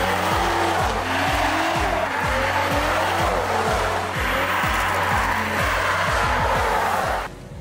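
A BMW 340i driven sideways, its engine revving loud and close in repeated rising and falling pulls while the tires squeal steadily across the whole stretch.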